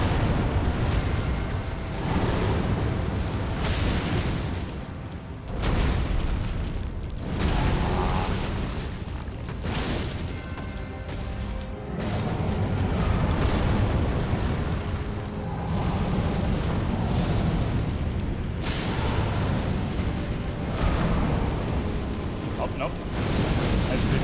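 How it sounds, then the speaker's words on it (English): A fireball bursts in a fantasy action video game, setting fire across the floor: a dense, sustained roar of explosive booms and crackling blasts with repeated heavy surges, loud and continuous, mixed with game effects. "The ball of shit exploding is what gets all the fire on the floor."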